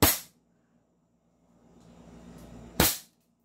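Two sharp, loud shots from a 2011 Hi-Capa 7.0 airsoft pistol, one at the start and one near the end, with a faint mechanical rise between them.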